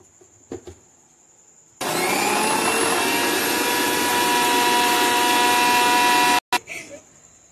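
A mixer grinder blends poppy seeds with water into a paste, starting abruptly into a loud, steady high-pitched whir that runs for several seconds before cutting off, with faint clatter before and after.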